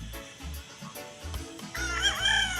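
Several gamecocks cluck and a rooster crows loudly nearby on a game farm, the crow rising and wavering over the flock's chatter.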